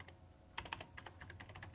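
Quiet keystrokes on a computer keyboard as a script name is typed into FileMaker Pro database software, a short irregular run of light taps with a few sharper clicks, close and alone.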